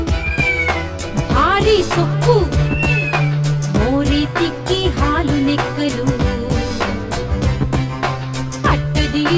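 Several cats meowing repeatedly, loud and close, with rising and falling mews overlapping each other over a musical backing, with a voice singing along in places.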